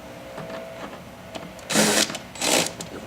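A power driver removing screws from a universal hitch mount bracket, giving two short whirring bursts close by over quiet background handling noise.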